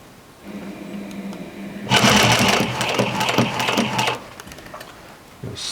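A home sewing machine runs a burst of stitching through heavy denim jeans, a loud rapid mechanical whir lasting about two seconds after quieter handling noise, then stopping.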